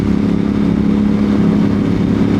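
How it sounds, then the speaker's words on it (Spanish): A Moto Morini X-CAPE 1200 motorcycle cruises smoothly on an open road, its engine holding a steady, even drone close up and loud, with no voices. "La suavidad en carretera abierta de la moto"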